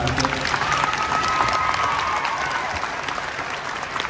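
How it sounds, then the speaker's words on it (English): Steady, loud applause from a crowd in a high school gym, continuous clapping with a faint whistle, filling the space evenly from start to finish. "So I'd like to take this opportunity to offer our applause to Beth one more time in her gym"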